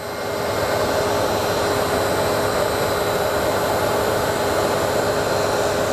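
An industrial pump runs at its non-drive-end bearing, giving a loud, steady, broadband mechanical roar that holds constant throughout with no talk.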